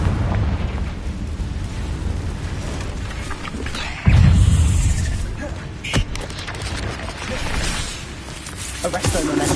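A fiery Confringo spell blast in the video game Hogwarts Legacy lands as a sudden, heavy booming burst midway, with smaller pops around it, all under ongoing voice and game sound.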